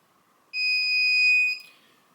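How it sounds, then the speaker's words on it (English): A FieldTech GameLink Lite clay pigeon trap remote control gives a single sustained electronic beep, shrill and steady, lasting about a second against a quiet background hum before cutting off. "hold them down simultaneously until the remote control beeps"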